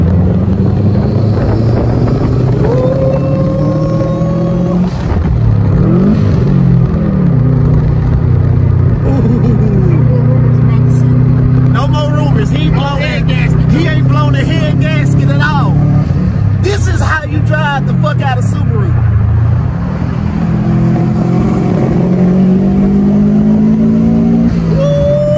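Turbocharged Subaru car accelerating hard during a ride-along at a roll race meet, heard from inside as a loud rising and falling engine roar with wind noise, while people talk excitedly.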